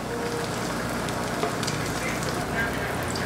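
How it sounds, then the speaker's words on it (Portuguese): Bacon fries in a pan with a dense, continuous crackling sizzle, steady and close, with scattered pops through a hissing wash. "Olha esse bacon, meu povo, super fritinho."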